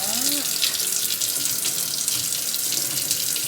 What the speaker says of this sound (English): So we're just washing our sink out.